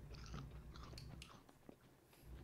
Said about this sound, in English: Not bad. I hear some crunch.